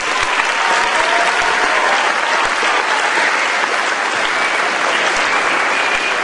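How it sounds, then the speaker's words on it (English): An audience at a school spring concert claps steadily, a dense, loud wash of applause from many hands that holds evenly throughout, without cheering or speech. "So let's give them all a round of applause."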